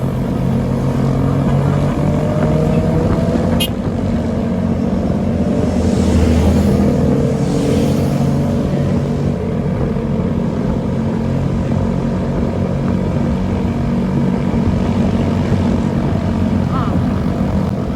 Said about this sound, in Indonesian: Pas banget ada banyak rombongan motor-motor keren, kita kasih jalan aja.